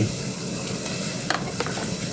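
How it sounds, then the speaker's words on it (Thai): Continuous bubbling and hissing of water boiling in a cooking pot for tom yum with tilapia, close by, with a few faint clinks near the end. "พอน้ำเริ่มเดือดครับ"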